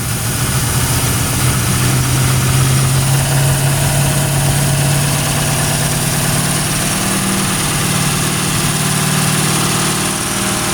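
A 1971 Ford Torino engine idles loud and close, a continuous rough rumble with steady vibration running throughout, with no voices.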